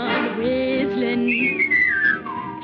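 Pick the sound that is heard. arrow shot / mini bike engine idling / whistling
whistling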